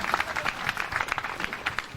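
A round of applause from the audience at a Nigerian college event, dense, even clapping from a crowd, fairly close and sustained throughout.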